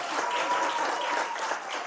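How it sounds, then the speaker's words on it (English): Dense, steady applause from a school audience greeting a high school student poet at a poetry slam competition, a continuous wash of many hands clapping together without a break. "A round of applause for Temba."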